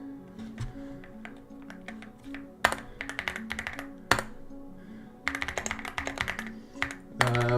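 Computer keyboard typing in a home setting, a steady run of close, crisp key taps in bursts with short pauses and a few heavier strokes, no speech over it.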